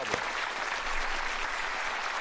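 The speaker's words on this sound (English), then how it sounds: "Give them a round of applause." A studio audience at a game show claps steadily in dense, sustained applause that fills the whole stretch, even and fairly loud.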